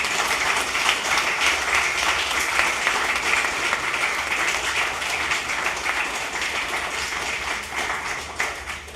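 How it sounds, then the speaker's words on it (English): A literary festival audience gives the readers a long, sustained round of applause, dense overlapping claps holding steady for several seconds before tapering slightly at the end, with no speech over it. "give all our readers a big round of applause"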